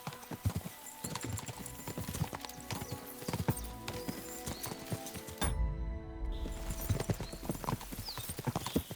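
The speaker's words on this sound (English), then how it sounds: "We can spur the horses on." Horses gallop in Kingdom Come: Deliverance II, a rapid run of close clip-clop hoofbeats with a brief pause and what may be a whinny before the hooves resume.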